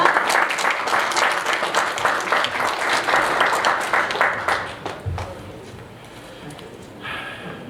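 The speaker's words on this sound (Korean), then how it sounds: "큰 박수로 맞이해 주시기 바랍니다" Audience applause at a Korean public policy academic winter conference welcomes a keynote speaker, dense sustained clapping from a crowd that fades out after about five seconds, leaving a quiet hall.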